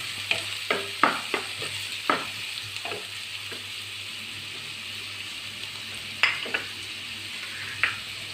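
Sliced onions sauté in a pan with a soft, continuous sizzle, and a spoon repeatedly scrapes and stirs them in quick clustered taps, close by and with no talking.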